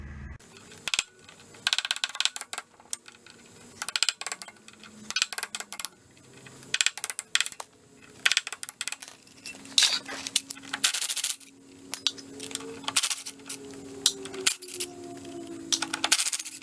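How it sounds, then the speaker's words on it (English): Scattered metallic clinks, ratchet clicks and tool clatter come from close by as the clutch and flywheel are removed from a flooded 1958 VW Beetle engine, with brief pauses between the sounds. "let's go get the flywheel, or at least the clutch, off of here"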